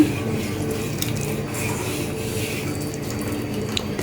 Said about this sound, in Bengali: এখন এগুলো না একটু করে পানি দিয়ে ভিজে দিব